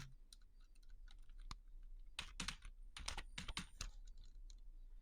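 Keys clack on a computer keyboard, first in sparse scattered taps and then in quicker bursts, fairly close and quiet, with no talking.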